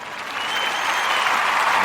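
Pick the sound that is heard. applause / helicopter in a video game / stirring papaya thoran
applause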